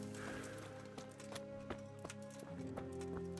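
Rhythmic clopping of horse hooves in Kingdom Come: Deliverance, moderately near, with steady footfalls over game music and ambience.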